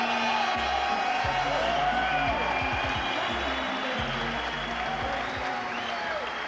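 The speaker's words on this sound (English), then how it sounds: "A tremendous reception from a packed crowd." A packed crowd cheers and applauds in a steady roar as a boxer makes his ring walk before a light-welterweight title bout, with a commentator speaking over the noise.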